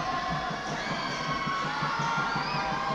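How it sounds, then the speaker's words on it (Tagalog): Continuous loud crowd cheering and shouting in an indoor gym at a barangay basketball cup game, with children's voices and rhythmic thumps under the roar. "The crowd is going crazy here."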